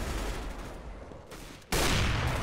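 Counter-Strike: Global Offensive gunfire comes as a dense, harsh burst of shots with a sudden loud volley near the end, close and without talking.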